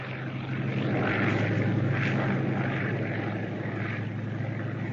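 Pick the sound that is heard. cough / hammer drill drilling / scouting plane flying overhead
scouting plane flying overhead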